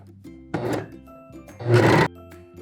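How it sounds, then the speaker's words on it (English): A serger stitches the shoulder seams of a shift dress in two short loud whirring bursts, a brief one and then a longer one, with a low motor hum between them and no talk. "So let's go over to the serger and serge this up."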